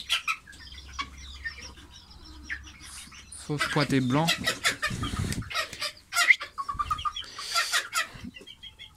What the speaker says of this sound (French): J'ai quelques poules mais beaucoup de coqs.